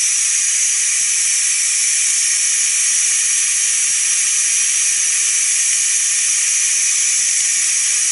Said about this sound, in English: that weren't too bad with releasing the steam